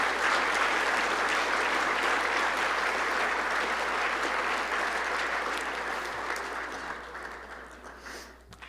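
A large crowd at a university football banquet claps in sustained, dense applause for scholar athletes that gradually tapers off toward the end.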